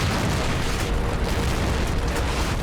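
Artillery shells land in a Normandy battlefield wargame, a dense, continuous rumbling roar of explosions filling the whole clip, loud and muffled, with no speech.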